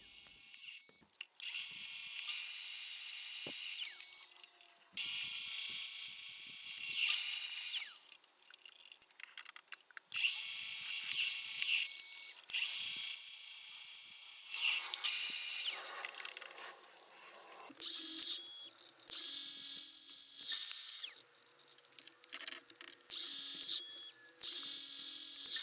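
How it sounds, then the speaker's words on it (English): Manual mill drilling holes with a carbide end mill and then a drill bit while repairing a gear pump: high-pitched whining cutting passes in several bursts, separated by quiet pauses, close and fairly loud. "I'll start off the hole with my carbide end mill and then follow it up with a drill bit."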